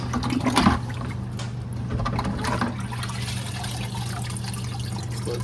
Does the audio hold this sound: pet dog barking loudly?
no